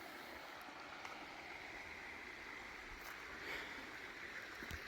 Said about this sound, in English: you have the Guadiana River just here